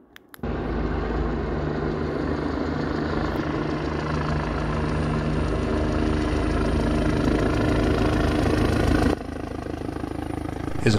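A helicopter engine runs steadily at close range on a pad in New Zealand, a loud, constant whine and low thrum starting abruptly and holding for the full length, with no talk.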